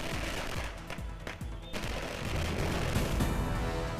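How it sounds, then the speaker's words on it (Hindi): Fireworks celebrating India's Women's World Cup win crackle and pop in dense, rapid bursts, a continuous barrage of sharp reports with a few heavier booms, loud and sustained throughout. "बराबर पर जमकर आतिशबाजी हुई"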